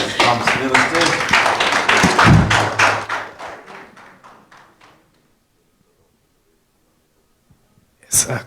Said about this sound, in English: Round of applause for Adrian as he comes to the stage.